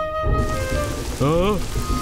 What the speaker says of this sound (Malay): Kenapa hujan tiba-tiba?